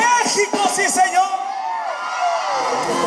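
A large crowd at a Mexican Independence Day celebration in Zitácuaro, Michoacán, shouts and whoops together in a loud, sustained roar with rising cries.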